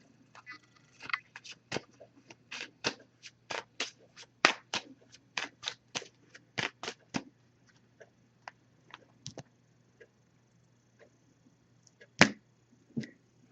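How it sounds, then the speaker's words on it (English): A tarot oracle card deck being shuffled by hand, with roughly two dozen crisp riffles and taps in a quick uneven rhythm that thins out toward the end, close and fairly quiet, with no talking. "I'm just going to give this a few shuffles and then we'll cut the deck and pull a card."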